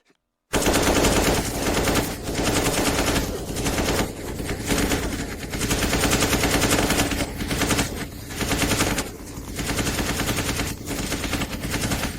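Rapid rifle gunfire crackles in sustained bursts of repeated shots, loud and close, with brief lulls between volleys and no speech.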